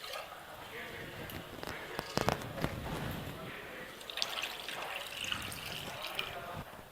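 Water is poured into a cooking pot on a stove before making goat leg paya, a faint trickling and splashing fill under quiet speech, with a few small clinks partway through.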